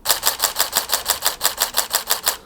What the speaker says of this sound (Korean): 이 셔터 소리도 찰칵찰칵 하는 게 좀 좋잖아요